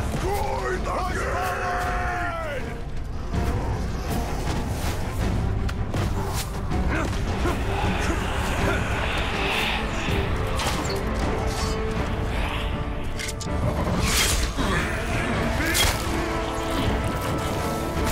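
A gate smashed down in the Shadow of War video game: heavy crashing and splintering with creaks and deep groans, over continuous loud battle noise, with voices speaking throughout.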